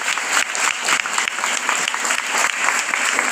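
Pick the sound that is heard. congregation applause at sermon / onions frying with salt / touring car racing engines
congregation applause at sermon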